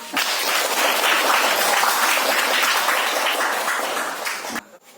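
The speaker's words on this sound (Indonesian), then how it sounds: "Beri tepuk tangan dulu." Students in a classroom give a burst of applause for a good answer during an Islamic faith lesson, loud dense clapping that stops abruptly near the end.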